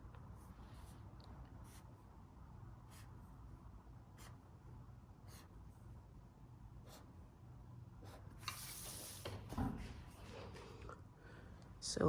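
Pencil or pen drawing dotted lines on paper while drafting a men's one-piece trouser pattern, heard as soft, quiet scratching strokes in intermittent short bursts over a low room hum, with a slightly louder rustle near the end.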